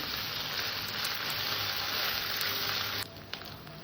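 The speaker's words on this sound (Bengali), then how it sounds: "আদা রসুন আর লঙ্কা আমি একসাথে বেটে নিয়েছি এই মশলাটাকে দিয়ে দিলাম এটাকে আর একটু কষে নেব" Ginger, garlic and green chili paste sizzles steadily in hot oil in a pan, a loud continuous crackle that drops noticeably quieter near the end.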